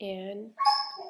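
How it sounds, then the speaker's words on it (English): A dog barks twice in quick succession indoors, close and fairly loud, while a person is talking. "that's my dog"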